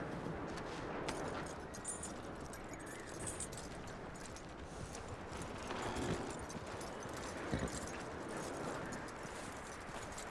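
Horse hooves clip-clop steadily across ground in Red Dead Redemption 2, a continuous rhythmic trotting under wind and ambient game noise at moderate loudness, with no talking heard.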